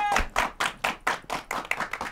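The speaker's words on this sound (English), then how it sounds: "Give them a round of applause." Applause for young dancers as guests arrive on a kids' talk show, rhythmic separate claps in a steady beat of about eight or nine bursts, fairly close.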